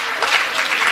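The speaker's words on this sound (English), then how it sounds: "Let's give another round of applause" Audience applause at a memorial lecture commemorating Albertina Sisulu, a steady wash of many hands clapping at close range, sustained and even with small swells throughout the short stretch.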